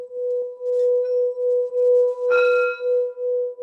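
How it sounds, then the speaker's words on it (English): A struck gong bowl rings with a steady, pure sustained tone; a brief brighter shimmer of overtones swells partway through before the hum settles again. "this is the tone you get when you hit one of these gong bowls"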